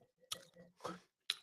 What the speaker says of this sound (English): I'm going to go ahead and put me some ginger root in there so I can I can chew it